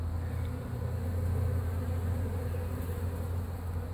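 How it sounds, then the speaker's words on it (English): Honeybees buzz steadily during removal of a colony from an apartment building for transfer to a top bar hive, a dense, close, continuous drone with no speech. "when I dump these bees in on top of this hive"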